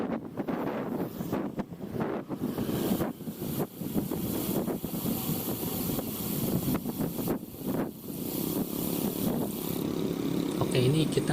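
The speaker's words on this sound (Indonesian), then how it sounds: "Bisa kedengaran dari suara anginnya yang besar dari kanan kirinya." Heavy wind roars and buffets against the microphone during a test ride on a Delihea REST, loud and continuous, with gusts swelling and dropping throughout.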